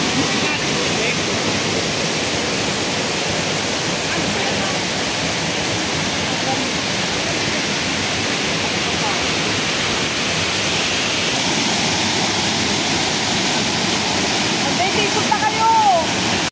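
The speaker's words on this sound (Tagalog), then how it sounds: "So tayo po ay nandito ngayon sa Balagbag Falls." Balagbag Falls, a loud, steady roar of rushing, crashing water close by that fills the whole stretch without a break.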